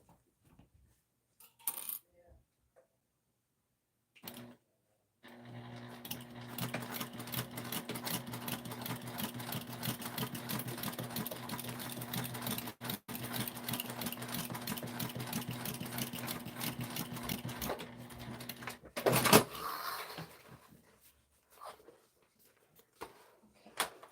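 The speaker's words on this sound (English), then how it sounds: "so we're going to sew these together. And we're going to go about a 3/8 inch on the bottom." Sewing machine stitching a seam on a clear vinyl tote bag, running steadily for about fourteen seconds with a constant mechanical hum and rapid needle ticking, after a few faint clicks, then stopping.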